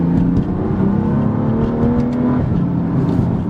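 A 2016 BMW M2 engine revs hard and climbs in pitch, with quick, smooth 7-speed dual-clutch gear changes breaking the rising drone, loud and close.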